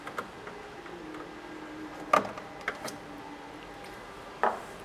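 Plastic trim clips are popped out of the front end of a Toyota Tacoma, making a few sharp, separate snaps spaced a second or two apart over a faint background hiss.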